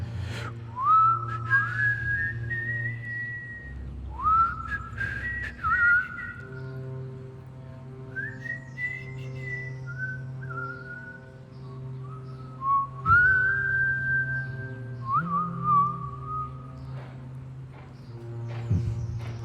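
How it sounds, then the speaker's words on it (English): A person whistles a 1980s song, the bright melody rising and gliding in clear sustained phrases with short pauses, loud and close over a low steady hum, with faint clopping thuds in the background. "Hard not to whistle that song."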